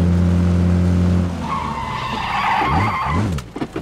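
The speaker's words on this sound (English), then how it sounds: "the sound of vehicles is not a thing I take lightly" A vehicle in the video game PUBG, an engine's steady hum giving way to tire skids and squeals, loud and near, with no talk.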